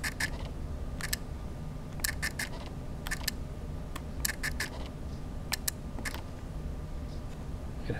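Faint mechanical clicks and snaps in short clusters, a Fuji X100 camera shutter repeatedly cycling open and closed over a low steady hum.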